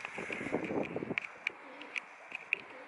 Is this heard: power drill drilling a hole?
no